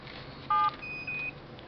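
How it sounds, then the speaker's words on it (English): A phone keypad press for a mobile-based lights and appliance controller sends a short dual tone, followed by a higher, slightly longer confirmation beep over a faint phone-line hiss. "At the end of each press, you will get a confirmation beep sound."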